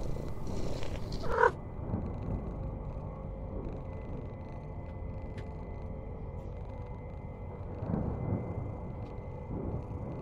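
A calm cat purrs steadily and softly up close in a rhythmic low rumble, with a brief knock near the start.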